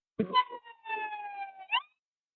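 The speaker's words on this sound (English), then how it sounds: "Got an ambulance running down on us." An ambulance siren in heavy city traffic, a wailing tone that holds and slowly falls over about two seconds, heard from fairly close and fairly faint, with no talk over it.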